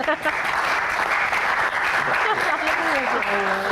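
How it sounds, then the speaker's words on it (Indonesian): Audience applause at a live Q&A session with two Indonesian women rock singers, a dense, loud, sustained clapping across the whole stretch, close and steady, with a voice briefly audible toward the end. "Tepuk tangan."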